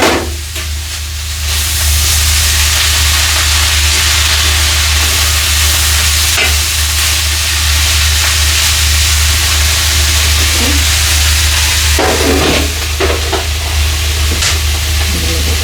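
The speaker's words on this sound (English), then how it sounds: "Give it a stir." Cabbage, bacon and spices sizzle loudly and steadily in a frying pan while a utensil stirs them with occasional scraping clinks. No one speaks.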